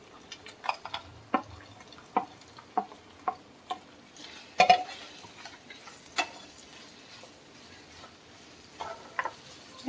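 Fried chicken pieces go into a cornflour-thickened sauce in a pan and are stirred, giving sparse sharp clicks and taps of a utensil against the pan over a quiet, faint sizzle, with one louder clatter near the middle.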